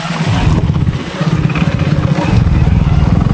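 Motorbike riding over a badly potholed road near a flyover, engine chugging steadily with bumpy clatter and jolts, loud and close throughout.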